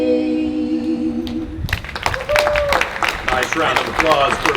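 A crowd applauds a Boy Scout Troop and singers at the opening ceremony of an arts festival: scattered clapping rises suddenly after a sustained sung note ends, with voices and cheers mixed in.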